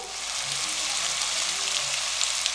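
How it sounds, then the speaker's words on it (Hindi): Soy sauce and chili sauce hiss and sizzle in a hot pan for soup noodles, a dense, steady crackling frying sound close up, with no talk. "अब इसके साथ ही हम सोया सॉस डाल देंगे 1 टेबलस्पून।"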